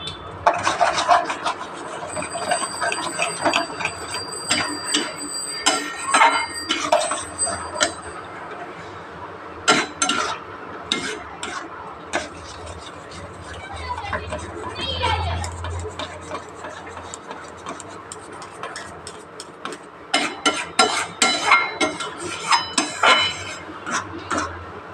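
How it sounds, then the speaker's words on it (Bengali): Spinach and paneer masala seasoned with salt, turmeric and sugar is stirred and scraped in a pan, with repeated rasping strokes in irregular bursts close up. "এবার ভালো করে এটা আমি কষিয়ে নেব"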